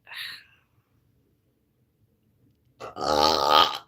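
A single loud, close burp from a woman, a drawn-out throaty belch near the end after a short breathy sound and near silence.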